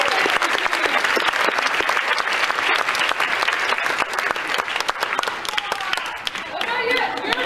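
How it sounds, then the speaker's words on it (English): Audience at a community band benefit concert applauds in a sustained burst of dense clapping, loud and close, with a few voices calling out near the end as it thins. "clapping hands."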